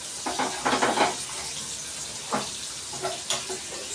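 Fish frying in hot oil on a stove, with a soft steady sizzle and a few sharper crackles and spits scattered across the few seconds, fairly quiet with no talking.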